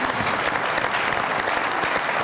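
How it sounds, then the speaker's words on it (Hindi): Dense studio audience applause on a comedy talk show, a loud, even roar of many hands clapping for the whole stretch. "बहुत सारी तालियां इनके लिए"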